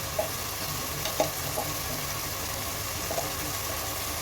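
Garlic frying in a pan while tehari is being cooked, a steady hiss of hot oil with a few faint stirring clicks, close and continuous, with no voices.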